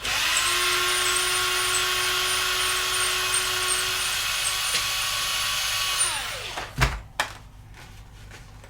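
A Dremel rotary tool cuts into a steel rock slider on a Jeep rock crawler, with a steady high-pitched whine running for about six seconds before it spins down and a few clunks follow.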